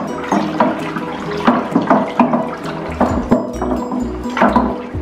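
Warm water pours and splashes into a container for homemade Cabernet Sauvignon red wine, a close, loud, gurgling stream with uneven splashes and knocks throughout.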